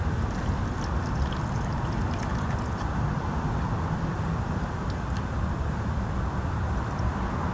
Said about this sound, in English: go ahead and fill it back up with Pro Honda HP coolant